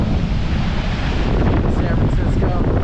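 Water rushes steadily from the Hetch Hetchy dam in Yosemite, a loud, continuous broadband roar with gusty wind buffeting the microphone throughout.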